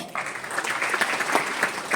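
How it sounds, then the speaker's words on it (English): An audience at a Ministry of Mines event applauds to welcome Shri PK Singh, with clapping bursting in abruptly and holding as a thick, steady patter. "let's welcome Shri PK Singh with a round of applause"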